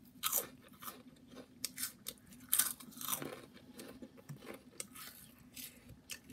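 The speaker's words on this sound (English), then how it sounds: "Now you feel that crunch." Cheetos Xtra Flamin Hot chips from Mexico being crunched and chewed close up, a run of irregular crisp crunches and bites with no talking.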